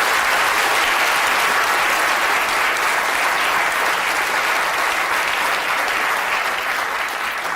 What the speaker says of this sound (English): give Nathan a big round of applause